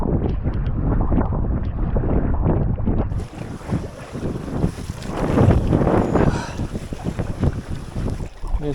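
Wind buffets the microphone while canoeing on the Piteälven river in Lapland wilderness, a steady loud rush with gusting low rumble and lapping water, growing broader and noisier partway through.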